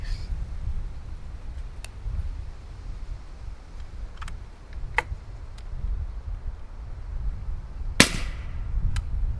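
A suppressed 350 Legend rifle fires subsonic rounds through a GSL Bushman 360 suppressor, giving one sharp, fairly loud muffled crack near the end after several smaller clicks over steady outdoor rumble.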